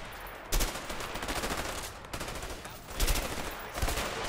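Rapid gunfire in the video game A Way Out, with dense continuous shooting and louder bursts at intervals, close and loud throughout.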